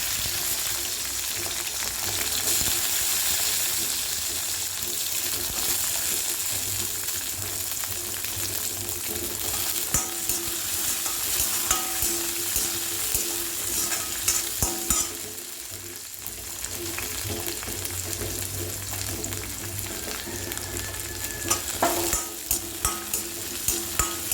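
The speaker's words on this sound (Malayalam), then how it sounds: "ഇനി ചീനച്ചട്ടിയിൽ എണ്ണ ഒഴിക്കുക ഉള്ളിയും വെളുത്തുള്ളിയും ഇട്ട് ഇത് നന്നായിട്ട് നമ്മൾ വളർത്തണം" Onions and garlic sizzle in hot oil in a kadai while being stirred for tomato thokku. The close, dense hiss runs for the whole stretch, broken now and then by light utensil taps.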